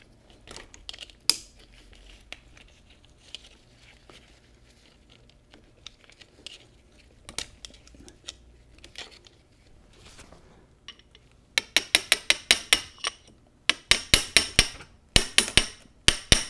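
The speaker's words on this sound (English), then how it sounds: "They pry out with a screwdriver." Screwdriver prying sprag retaining clips out of a Borg Warner T86 three-speed transmission with R10 overdrive, scattered light metallic taps and scrapes, then rapid bursts of sharp clicking clatter near the end, close up with no talk.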